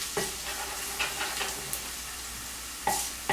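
Garlic browning in olive oil in a frying pan, a close, steady crackling sizzle with a few sharper pops and a louder burst near the end, no voices.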